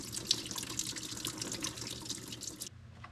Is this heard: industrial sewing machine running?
no